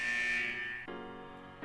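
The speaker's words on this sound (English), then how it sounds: "the buzzer signaling the end of the test echoes, just as I expect" A loud electronic buzzer from the Persona 4 Arena video game signals the end of a test, a harsh sustained tone that steps down in pitch partway through and then cuts off.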